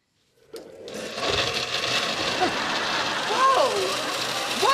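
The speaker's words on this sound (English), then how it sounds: "What is up with the blender?" A kitchen blender runs steadily after a sudden start, a dense whirring roar that holds at an even level throughout, with no talking over it.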